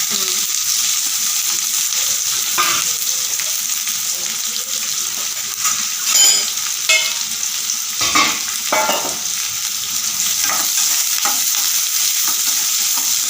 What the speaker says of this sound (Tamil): அதுக்கப்புறம் ஊற்றி விட்டு வெங்காயம் போட வேண்டியதான்